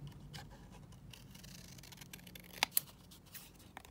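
Scissors snipping off part of a paper piece in a papercraft project: two quick, sharp close cuts in a row, with faint rustling around them in a quiet room.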